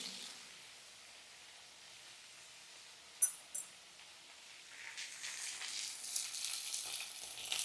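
Winter vegetables fry in a pan, starting as a faint hiss with two sharp utensil clinks, then the sizzle swells louder and crackles steadily toward the end.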